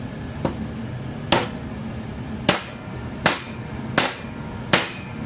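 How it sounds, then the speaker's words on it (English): A mallet drives a glued part into a hole in a Telecaster guitar body with six sharp, separate knocks spaced about a second apart, close and loud in a quiet room. "And so stick it in the hole and hammer it in."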